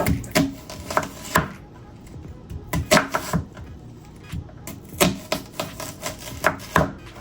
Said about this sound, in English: I think I'm going to just cut them kind of coarse